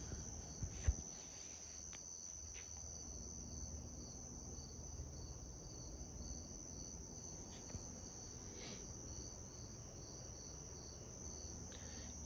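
Crickets chirp steadily outdoors on a Saturday night, a dense continuous trill filling the background for the whole stretch with no talking and only a couple of faint soft knocks.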